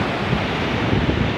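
Pacific Ocean surf and wind on the Valparaíso coast in Chile, a steady loud broadband wash of waves with gusting wind noise buffeting the microphone throughout.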